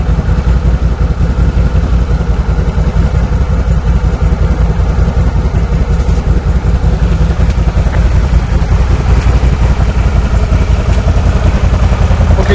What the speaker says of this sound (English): we are headed out on the ATV